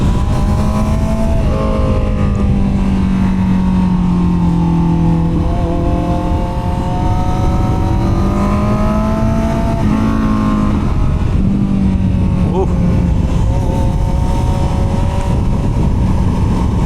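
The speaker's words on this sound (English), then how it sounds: "Oh my god, that bike sounds so good." Honda CBR650R motorcycle ridden hard through twisty roads in second gear, its engine loud and close, revving in rising and falling sweeps with a steady roaring exhaust.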